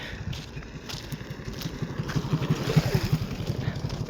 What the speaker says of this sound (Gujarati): આગળ એક બાઇક આવે છે।